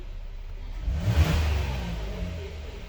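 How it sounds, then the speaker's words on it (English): A 2022 Hyundai Palisade engine idling, then one quick throttle snap that rises in a brief rev and settles back, heard close and fairly quiet. "This is where I'm snapping the throttles."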